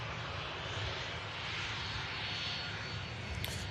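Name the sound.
EasyJet airliner from Paris Charles de Gaulle about to land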